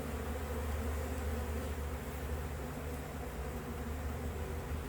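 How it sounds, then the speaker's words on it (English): Steady, dense buzzing of honey bees at a hive fills the background continuously, a low droning hum of many bees nearby, with no speech. "there's a couple bees here that are already starting to come over."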